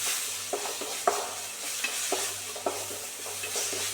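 Mustard seeds, crushed shallots and curry leaves fry in hot oil in a pan, a steady close sizzle broken by occasional soft stirring taps, with no voices.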